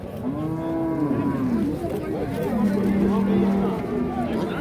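A cow moos loudly at a busy cattle market, two drawn-out lowing calls rising and holding steady, with people talking and crowd babble around it.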